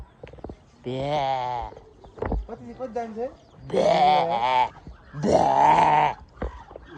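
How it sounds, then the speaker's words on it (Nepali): Three drawn-out, wavering bleats from a sheep nearby, with a person talking in between. "हेर्नु सक्नुहुन्छ भेडा"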